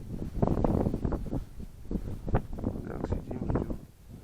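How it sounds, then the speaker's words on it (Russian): Wind gusts buffet the microphone outdoors during winter ice fishing in a snowstorm, a steady low rushing roar that swells and fades under intermittent talk. "ветер также продолжает дуть"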